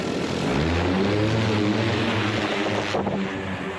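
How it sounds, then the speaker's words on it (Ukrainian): A Vampire heavy military drone flies close overhead, its propeller engine a loud, steady buzzing drone with pulsing harmonics that holds throughout and shifts slightly near the end. "Це вампір, один з найбільших безпілотників, які існують у нашому війську."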